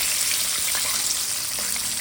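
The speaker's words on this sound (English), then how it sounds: "That's what you want your oil to look like, everybody, when you put your fish in." Catfish fillets frying in hot oil for Southern fried fish, giving a dense, steady sizzling hiss with small crackles and pops throughout, close up and with no talking.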